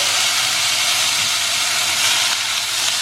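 Boiled black chickpeas sizzle in a little oil in a pan, a steady, loud, broadband hiss that holds evenly throughout with no voices.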